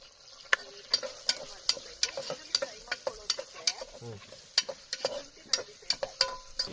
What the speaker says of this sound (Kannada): ಇದು 2 ಈರುಳ್ಳಿ ಫ್ರೈ ಮಾಡ್ಕೋಬೇಕು ಇವಾಗ ನೀಟಾಗಿ